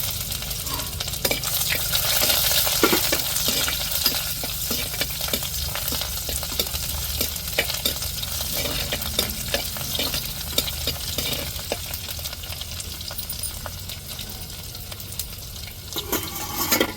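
Cinnamon and onions fry in a hot pan with a steady, loud sizzle, and a spoon stirring through them adds repeated scraping and clatter, with no voices over it.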